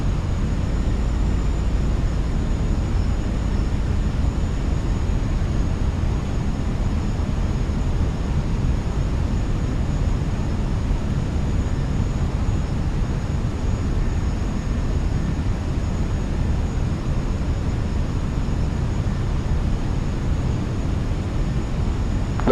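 Fenix A320 airliner on final approach in Microsoft Flight Simulator 2024, a steady, unbroken broadband roar of engines and airflow with a faint high whine, constant and close throughout.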